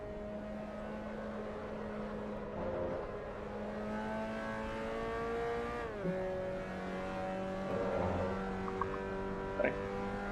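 A race car engine in the Assetto Corsa Evo racing game holds a steady, high-pitched whine, rising and dropping in pitch as the throttle is worked and gears change, with no other sound competing.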